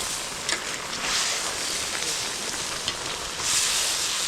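Loud, continuous sizzling of fish frying in hot oil, a steady crackling hiss with occasional pops, close by.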